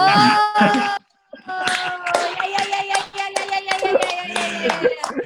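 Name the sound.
clapping, applause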